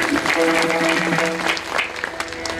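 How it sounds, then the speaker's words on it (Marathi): Loud, steady applause from a temple kirtan audience at a Santabai temple kalash ceremony in Paithan, sustained clapping filling the space with faint tonal music beneath. "या परिवारासाठी एकदा सगळ्यांनी जोरदार टाळी वाजवायची."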